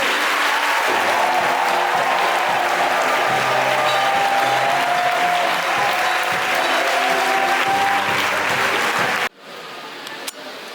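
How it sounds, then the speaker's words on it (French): A church congregation applauds loudly and steadily at a Sunday service, a dense wash of clapping that fills the space for about nine seconds before cutting off abruptly to a quieter room. "Acclamons le Seigneur. Acclamons plus fort."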